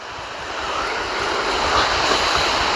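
Wind blowing outdoors, a loud continuous broadband rush buffeting close against the microphone and building slightly, with no voices.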